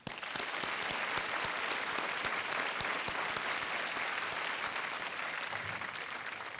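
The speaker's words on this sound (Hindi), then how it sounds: "तालियों से अभिनंदन करते हैं।" Studio audience on the Hindi quiz show Kaun Banega Crorepati applauds to welcome a contestant's husband, with steady dense clapping from a large crowd lasting throughout.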